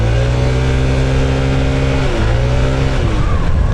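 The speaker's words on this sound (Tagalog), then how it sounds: "mas maingay ang makina ngayon" A Honda ADV 160 scooter with an upgraded pulley set and clutch bell revs loudly and steadily, its engine note rising and dipping as it runs continuously up close.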